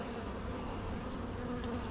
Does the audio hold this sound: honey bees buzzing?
yes